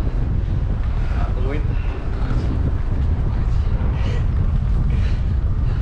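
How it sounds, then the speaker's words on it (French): Strong wind buffets the microphone high up on a staircase in Sri Lanka, a loud, continuous rumble that swamps everything else, with faint hints of a voice underneath. "Il y a du vent."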